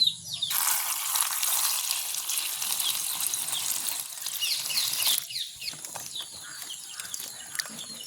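Cut brinjal being washed in water in a village kitchen, a loud splashing gush for several seconds that then drops to softer sloshing and drips.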